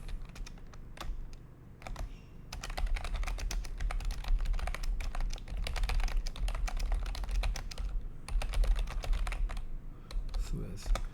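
Someone types quickly on a computer keyboard, tapping out dense runs of crisp, close keystrokes with brief pauses. Faint talk can be heard underneath.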